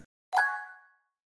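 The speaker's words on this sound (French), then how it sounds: "j'appelle via l'API le déclenchement de cette notification à la fin de mon scénario N8N" An iPhone notification from the PushCut app sounds once, a short, clear chime that rings out and fades within about half a second in a silent room.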